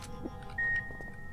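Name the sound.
beep from the video game Penumbra Black Plague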